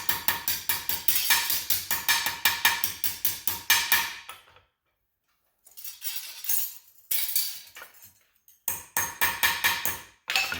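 Rapid, ringing hammer blows flatten forged metal iris petals at the forge, fired in quick regular bursts with short pauses and a longer silent gap between volleys.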